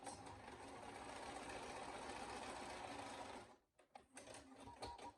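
A sewing machine bastes a wallet interior, running in a steady, continuous whir for about three and a half seconds, then stopping abruptly, followed by a few faint clicks and handling sounds.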